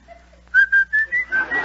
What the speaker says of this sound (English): As if you were going to whistle.